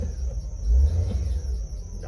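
A Suzuki Wagon R with a K6A twin-cam turbo engine and about 137,000 km idles nearby, a steady low rumble that swells briefly, heard alone.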